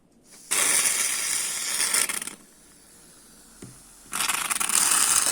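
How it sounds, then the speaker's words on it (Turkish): A wire whisk beats a toothpaste slime foam in a bowl, two long bursts of fast, dense scraping and rattling separated by a quieter pause, close and fairly loud with no talking. "Çırpma teli kullanacağım. Güzelce karıştıralım karıştıralım."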